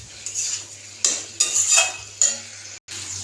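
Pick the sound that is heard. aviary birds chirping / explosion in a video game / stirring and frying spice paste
stirring and frying spice paste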